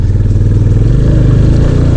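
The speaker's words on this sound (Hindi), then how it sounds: "अभी मैं ऑफ रोड पिलियन बिठा के चला रहा हूँ और बाइक में कोई इशू नहीं है, एकदम मस्त भाग रही है" A motorcycle carrying a pillion passenger is ridden off-road, its engine loud and close with a steady throbbing exhaust and rumbling wind noise.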